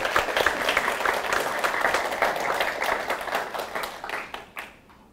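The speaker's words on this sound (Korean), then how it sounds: "박수 크게 한번 하나님께 영광 돌리기 바랍니다" A church congregation applauds loudly during a Sunday worship service, a full, even burst of many hands clapping that holds for several seconds, then tapers off and stops.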